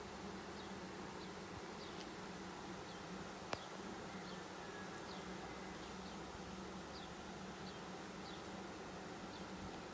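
Honey bees from a newly installed 3 lb package hum steadily during a hive inspection, a dense, even buzz with a few nearer individual bees passing, faint and continuous throughout.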